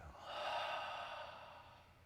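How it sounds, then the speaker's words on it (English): One slow, deep breath during a guided meditation, a soft airy rush that swells over the first half-second and then trails off gently, close and quiet with no speech. "Take a deep breath with me. Let go on the exhale."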